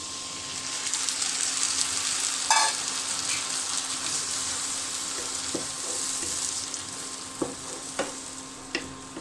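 Spices such as turmeric, coriander, cumin paste and chili powder fry in oil with fried onion, giving a steady close sizzle, a brief louder burst early on, then several sharp stirring clicks and scrapes near the end.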